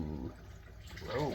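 Water runs from a reverse osmosis filter faucet just after a filter change, a soft steady splashing stream heard faintly beneath a person talking.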